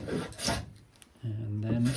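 Hand rasp or file shaping a chamfer along the edge of a wooden foot stool seat, a few close, short rough scraping strokes with brief pauses between them.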